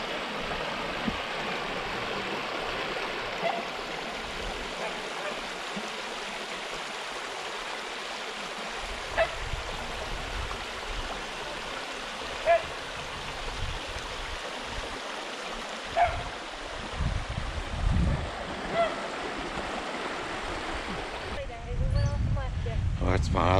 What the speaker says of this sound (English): I love this little creek.